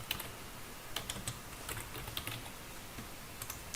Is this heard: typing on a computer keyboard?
yes